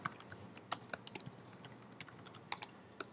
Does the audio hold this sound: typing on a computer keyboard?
yes